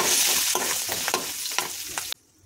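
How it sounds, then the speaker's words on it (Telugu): Spinach sizzles in a hot pan with turmeric and coriander powder as it is stirred, a steady frying hiss broken by several sharp scraping strokes before the sound cuts off. "ఇప్పుడు ఒకసారి కలుపుకుందాము."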